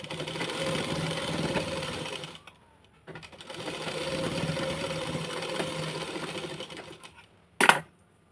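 A sewing machine stitches a plain blouse in two bursts of steady, fairly loud mechanical whirring, a short pause between them, then one sharp brief clack near the end.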